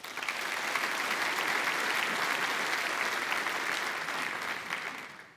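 A conference audience at LeanIX EA Connect Days 2019 applauds in a sustained, fairly distant round of clapping that stays even for about five seconds before easing off at the end.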